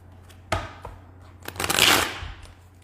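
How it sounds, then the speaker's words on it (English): Riffling and rustling of cards being shuffled, a few brisk bursts building to a longer flutter near the middle, close by with no talking. "Let me get in 3 good shuffles."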